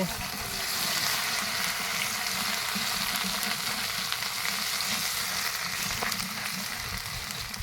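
Garlic and dried chillies frying in mustard oil, a close, continuous crackling sizzle with the occasional stir or scrape and no voices, steady and moderately loud throughout.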